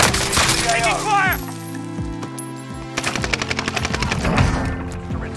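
Loud rapid automatic gunfire rattles in Call of Duty Warzone Rebirth, with dense bursts and a fast repeating stutter of shots, mixed with in-game voice callouts and game effects.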